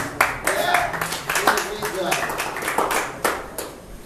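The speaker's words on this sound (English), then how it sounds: "one more round of applause." An audience applauds after a live band set, a brief, scattered round of clapping with voices mixed in throughout.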